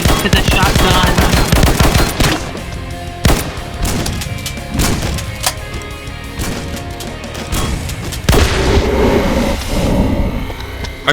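A shotgun fires in the horror shooter Slendytubbies: The Devil Among Us, with loud, close blasts and rapid bursts of gunfire, dense in the opening seconds and returning in sharp strikes through the rest.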